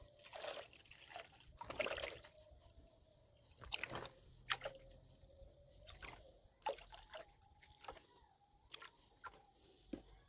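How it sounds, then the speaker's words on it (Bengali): Packaged milk trickling and splashing into a wok in intermittent faint pours, with soft dribbles, drips and brief splatters close by in a quiet kitchen. "এই যে আমি দুধটাকে কেটে এই যে ঢেলে দিচ্ছি"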